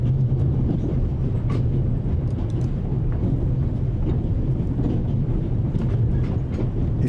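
A runaway train rumbles steadily in the adventure game The Raven: Legacy of a Master Thief, a loud continuous low roar with faint rhythmic clatter of wheels on rails and no voices.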